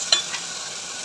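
Misal masala with tomato puree stirred in a pan: a soft, steady frying hiss broken by a few quick spatula scrapes, close and without speech.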